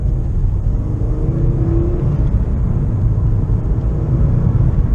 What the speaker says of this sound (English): So now we'll do a second gear acceleration to see what that's like.